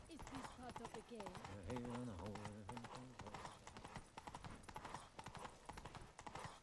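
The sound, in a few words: horse galloping in video game Witcher 3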